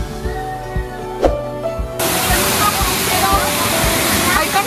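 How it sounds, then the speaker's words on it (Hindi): Jibhi waterfall roaring loudly and steadily, with people shouting and talking nearby under the rushing water. "पूरा कंपटीशन हो रहा है लोगों की चीखों का और वाटरफॉल की आवाज का"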